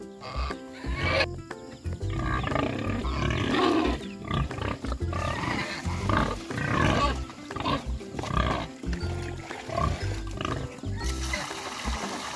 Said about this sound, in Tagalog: Ito na yung mga baboy natin mga boss, oh. Nag-aantayan sila na pakainin.